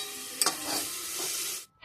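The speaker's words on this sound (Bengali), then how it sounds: "এবার মাংসটা কষিয়ে নেব" Meat is stir-fried for kosha in a pan, a short, steady sizzle with a quick clack of the spatula near the start before cutting off.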